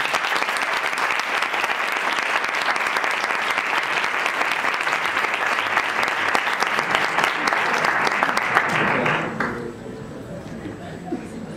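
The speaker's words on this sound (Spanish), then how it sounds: "vamos a darle un fortísimo aplauso para que sienta ese calor de todos sus compañeros" Loud, sustained applause from an audience at a Christmas proclamation event, continuous for about nine seconds before stopping abruptly, followed by quieter room sound and a voice.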